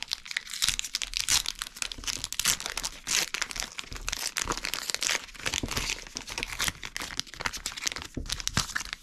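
A holographic Pokémon card slides into a thin plastic sleeve, producing close, continuous crinkling and rustling of plastic with small sharp crackles throughout, fairly loud and with no voice over it.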